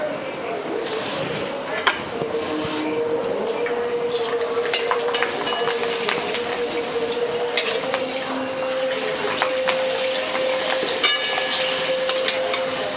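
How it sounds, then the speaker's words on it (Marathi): Rice papads frying in hot oil, a steady, close sizzle and bubbling running throughout with scattered crackles, while a voice talks over it. "तेल गरम झालेले आहे. पापड्या तळून पाहूया."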